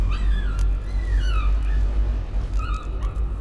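Dog whimpering in the horror video game Layers of Fear: several high, wavering whines and yelps rise and fall over a loud, constant low rumble of ambience, with no talking.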